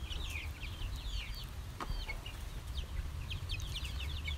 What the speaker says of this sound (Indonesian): jantan juga ini sudah belajar berkokok ya teman-teman walaupun agak nyaring